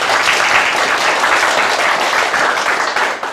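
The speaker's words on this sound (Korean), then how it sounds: "영광 박수 올려드리겠습니다." Loud, dense applause from a church congregation, sustained evenly without a break.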